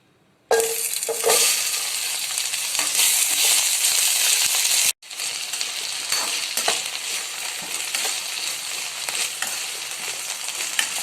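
Ivy gourd (kovakkai) dropped into hot oil in a pan, bursting into a loud, steady sizzle that cuts briefly and resumes, with faint stirring clinks throughout.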